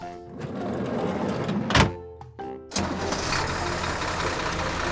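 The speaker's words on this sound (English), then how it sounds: "Tractor 2 enters the field." A tractor rolls into a field in an animated farm cartoon, its engine starting with a thunk and revving into a steady mid-pitched drone after a brief pause.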